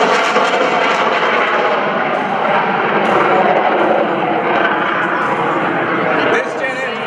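The Jack Link's Jet Waco biplane, fitted with a CJ610 jet engine originally from the Learjet 24 and T-38, roars loudly and continuously at an airshow, a dense broadband jet-and-prop din with no break.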